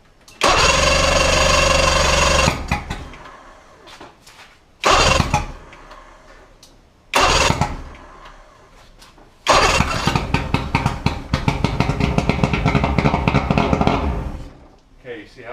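Outboard boat motor, with its fuel ball primed and being winterized, starts up in three short roaring bursts that cut off quickly, then runs steadily and loud for several seconds.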